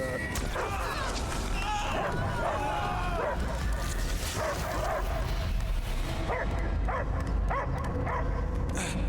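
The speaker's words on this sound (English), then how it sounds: "I hear only barking." A dog in a video game barks and yips several times in short bursts, with whimpering between, over a busy background of other sounds.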